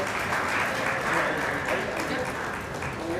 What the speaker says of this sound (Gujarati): જોરદાર તાળીઓથી આપણે વધાવી લઈએ